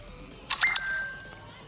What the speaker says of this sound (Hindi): HTC का कुछ इस तरीके का बजेगा।